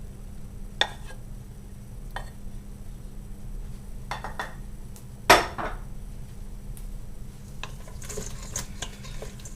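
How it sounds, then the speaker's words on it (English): Thai red curry sauce is stirred and dumped over chicken wings: quiet spoon clinks and taps against a bowl, scattered scrapes, then one louder clatter and a wet slide, close over a low steady hum. "Give that a good stir, and then just dump it in."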